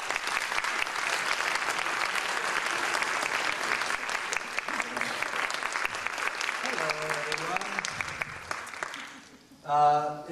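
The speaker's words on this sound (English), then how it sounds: "So please give him a round of applause." Audience applause for the guest speaker at an Islamic Scholarship Fund event, a dense, steady burst of clapping that fades near the end as a voice begins to speak.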